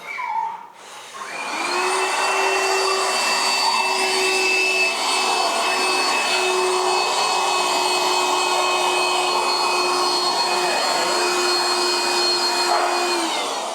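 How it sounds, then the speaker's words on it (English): A loud shop vac vacuum cleaner whirs up after a brief start and runs steadily with a high whine, close by and unbroken, with no voices. "That's a much more intense, loud vacuum cleaner than a lot of the other ones."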